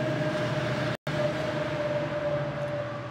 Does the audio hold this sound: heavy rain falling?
no